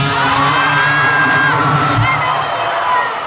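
Rock concert crowd at Red Rocks roaring and whooping, a loud, dense, sustained cheer with yells rising over it and no break for over three seconds.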